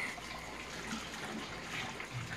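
Gentle trickling and sloshing of warm bathwater as a child is bathed, soft and close with faint splashes scattered through the quiet.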